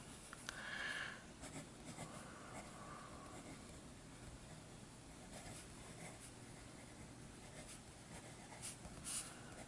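A Bronze Age model fountain pen with a medium nib scratches steadily across paper, a faint, continuous close-up rasp with a few brief louder strokes.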